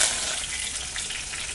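Garlic, chillies, curry leaves and onions sautéing in hot oil in a pan for a fish curry, giving a steady, close sizzle that starts a little louder and then holds evenly.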